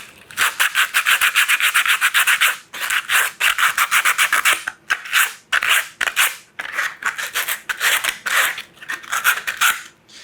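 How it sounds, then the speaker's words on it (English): A taxidermy whitetail deer ear liner is scuffed by hand, so its inside surface will hold Bondo. Close, loud rhythmic rasping strokes come in quick bursts with short pauses, and there is no talking. "I scuff the inside of the ear here so that the Bondo sticks to this"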